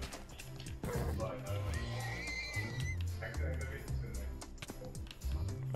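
A Minecraft horse whinnies in a drawn-out wavering neigh, with clip-clop steps and game sounds while a player talks over it.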